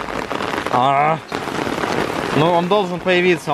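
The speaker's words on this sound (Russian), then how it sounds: "Дождь усиливается, как назло." Steady rain patters on an umbrella overhead during a Pokémon Go outing, a continuous broadband hiss running under a voice speaking Russian in bursts.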